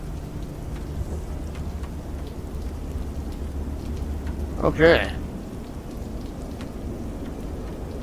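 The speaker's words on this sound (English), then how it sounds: "Sounds like rain." Steady rain falls throughout a Microsoft Flight Simulator 2024 flight, a constant wash of drops under a low rumble, with a brief louder burst near the middle and a voice speaking briefly.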